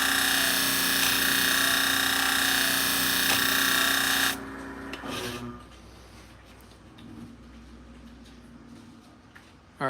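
A salon shear blade is ground on a spinning sharpening disc, a loud steady whirring grind that cuts off partway, leaving a quieter workshop hum with faint handling noises.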